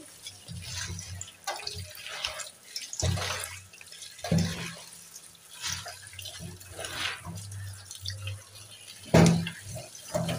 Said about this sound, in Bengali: বাঁধাকপি আর আলু কেটে নিলাম, ধুয়ে নিচ্ছে।